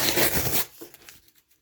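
Mail package from cardmarket.com holding Magic: The Gathering cards being peeled open, a loud close tearing rip that fades into a few soft crinkles and taps.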